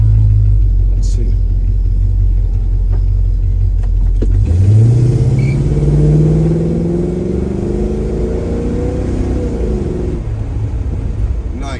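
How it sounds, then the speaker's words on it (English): A 1971 Chevrolet Chevelle rumbles loudly up close, then accelerates with rising engine tone as it shifts through the gears, the pitch climbing and dropping before settling into a steady drone. "Shift through the gears well. Nice 71 Chevelle."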